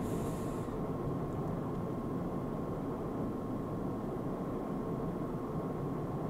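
Freight train rolling by in the game Train Simulator 2013, a steady broadband rumble and rail noise held at an even level throughout, with a faint high hiss fading in the first second.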